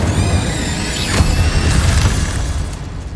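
Incendio fire spell cast in Hogwarts Legacy, a loud, dense whooshing burst of flame with crackling blasts, continuous and full throughout.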